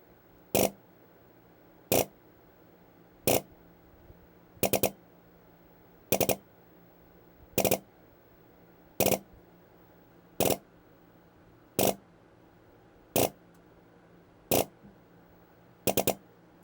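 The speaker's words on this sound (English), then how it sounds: "it is going to cycle through using 3-round bursts and increase rate of fire with each 3-round burst" Airsoft gun fitted with a Wolverine Spartan FCU and triggerboard firing twelve evenly spaced short bursts of three rounds each, crisp and close, over a faint background hum.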